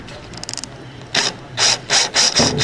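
A few short bursts of a cordless impact driver hammering at a corroded screw during a Toyota Supra fuel pump replacement, loud and close, separated by brief pauses, after some faint clicking.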